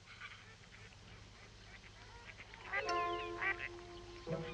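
Ducks quack in the Tablas de Daimiel wetlands national park in Spain, a few harsh nasal calls rising midway over a hissing outdoor background, moderately distant and fairly faint.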